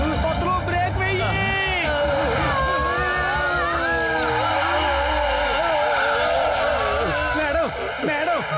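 A cartoon race car brakes hard and skids, with a loud continuous tire squeal and engine whine sliding in pitch, dense and prominent for the whole stretch.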